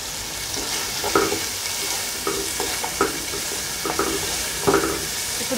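Tomato puree and spices fry in a pan for homemade pasta sauce, a close, steady sizzling hiss broken by repeated stirring scrapes at a loose, uneven rhythm.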